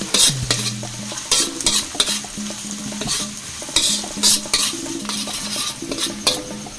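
Onion, garlic and a little chili being sautéed in oil for beef adobo: steady close sizzling with repeated scraping and clinking stirs of a utensil against the pan, no voices.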